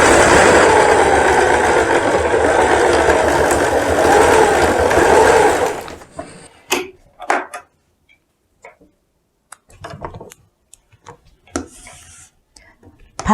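A sewing machine stitches the shoulder seam of a blouse, whirring steadily and loudly for about six seconds. It then stops, leaving a few sparse, soft clicks and handling sounds.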